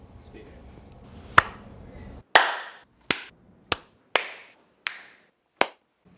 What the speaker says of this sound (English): like a loud clap